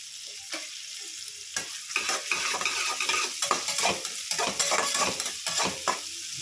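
Beans are stir-fried in hot oil for fried rice. A loud sizzle is broken by repeated scraping stirs of a utensil against the pan, close and uneven in rhythm, with no talking.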